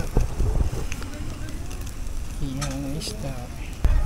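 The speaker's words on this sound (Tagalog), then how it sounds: "Sobrang lakas ng hangin" Strong wind blowing at a riverside campsite while fish grills, a continuous gusty rumble with crackling bursts, and a voice speaking briefly partway through.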